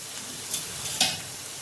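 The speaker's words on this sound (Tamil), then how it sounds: "இப்போ இது கொஞ்சம் வதங்கிட்டு இருக்கட்டும்" Ingredients for a garlic pickle sautéing in a pan, a soft, steady sizzle with two brief stirring scrapes, close and fairly quiet, no talk.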